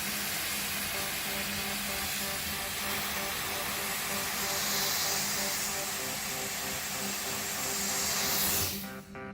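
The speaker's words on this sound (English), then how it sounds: "and I'm going to steam." Vapor Rino 200 PSI commercial steam cleaner steaming a rug, a steady loud hiss that runs without a break and cuts off sharply at the end.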